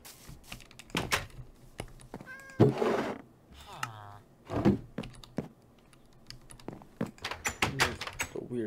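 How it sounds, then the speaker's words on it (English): A cat in the Minecraft video game gives a couple of short meows amid loud keyboard typing and clicking, with a player's voice talking at points. "that a dog? No, it's a cat."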